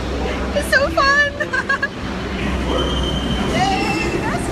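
New York subway train rumbling along with high metallic wheel squeals, close and loud, while voices murmur in the carriage.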